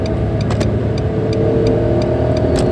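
A Nissan March L 1.2 manual hatchback engine pulls hard in third gear on a toll road, a steady loud mid-pitched drone heard from inside the cabin with high revs holding throughout.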